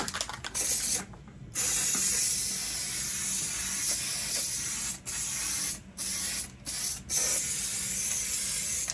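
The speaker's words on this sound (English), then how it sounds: "I'm gonna spray the backing on that as well" A steady spray of tacky adhesive onto rug backing hisses for several seconds, cut by a few brief pauses between bursts, close to the microphone with no voices.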